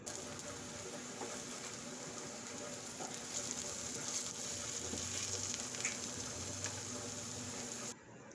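A diner-style hash brown made from food-processor-shredded potatoes frying in a pan, a steady dense sizzle and crackle close up, continuous with no talk, cutting off near the end.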